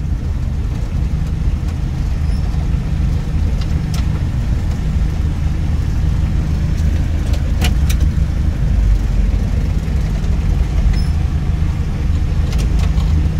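Steady low rumble of car traffic on a busy road in Tabang in the Philippines, engines droning nearby with a few faint clicks and no break in the noise.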